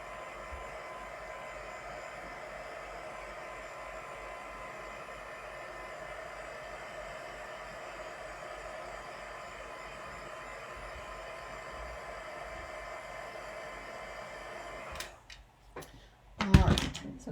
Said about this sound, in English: I'm going to use my heat tool on low heat to set that, or to help it along